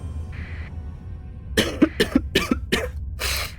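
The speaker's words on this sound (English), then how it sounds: "I really apologize about the coughing, guys" A person coughs in a quick burst of about five sharp, close, loud coughs, preceded by a faint brief noise and ending with a breathy exhale.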